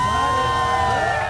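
A large, loud crowd cheers and whoops continuously at a museum ribbon cutting in Bronzeville, with children shouting among the dense roar.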